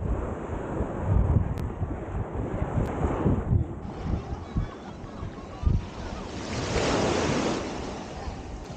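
Surf washes onto a busy public beach at Santa María del Mar near Havana, Cuba, with rolling waves and strong wind buffeting the microphone, plus a louder wave surge near the end.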